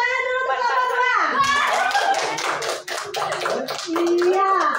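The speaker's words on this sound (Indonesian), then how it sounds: "Tepuk tangan dulu untuk kelompok" Classroom children clap for a group of classmates, a burst of quick, uneven claps rising after a teacher's voice, with children's voices mixed in and talk resuming near the end.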